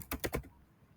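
Computer keyboard typing, three quick close key clicks in a fast burst, then quiet.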